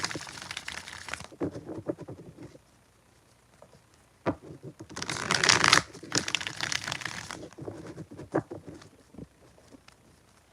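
Tarot cards are shuffled in quick papery bursts of riffling and flicking, with quieter pauses between rounds and a louder flurry midway.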